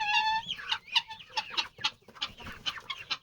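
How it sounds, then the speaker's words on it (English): Young hens clucking close by in a farmyard, a quick series of short, bright clucks and squawks tumbling over one another with no voices. "These guys, the chickens,"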